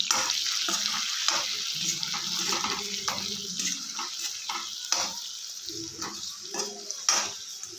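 Red chili powder and turmeric powder being stirred in a frying pan for an egg curry, with repeated spatula scrapes and clinks in an uneven rhythm over a soft close sizzle.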